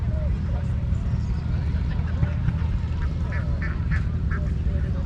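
Indian runner ducks quacking as a flock is herded at a harvest festival, several short nasal calls clustered toward the middle and end over a steady low rumble of background noise.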